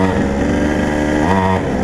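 A quad bike engine revs hard under acceleration, a close, loud buzzing drone with rising pitch and a brief surge near the end, heard alone without talk.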